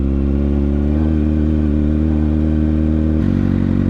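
Kawasaki Ninja ZX6R motorcycle engine held on the throttle, a loud, steady close-up drone that shifts pitch near the end.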